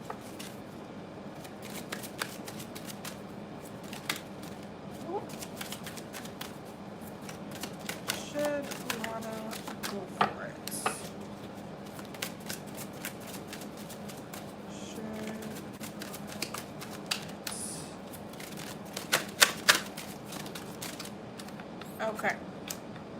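A tarot-style deck of cards shuffled for a reading, with a long run of quick riffling and flicking under a steady background hum, a few sharper card snaps standing out near the end.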